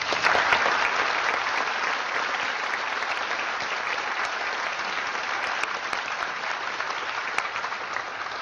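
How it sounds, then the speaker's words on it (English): Sustained applause from a large audience for the guests of a faith debate at an arts center, thick and even clapping that swells briefly at the start and then holds steady. "Ladies and gentlemen, may I have a round of applause for our guests?"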